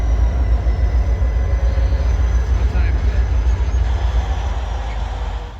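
A CSX freight train passes during a snowstorm, Springfield-bound, producing a close, continuous low rumble with rolling wheel clatter and occasional clicks that slowly eases off toward the end.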